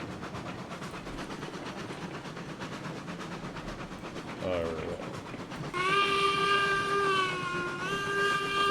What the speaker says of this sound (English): First time the train's been up here